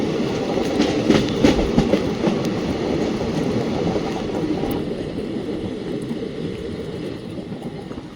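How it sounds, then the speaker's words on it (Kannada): A train pulling into Malleshwaram station in Bangalore at night, running late, gives a steady loud rumble of rolling wagons with clickety-clack wheel beats that ease slightly toward the end. "ನಮ್ಮ ಟ್ರೈನ್ ಬಂದೈತ್ರಿ ಈಗ ಮಲ್ಲೇಶ್ವರಂಗೆ."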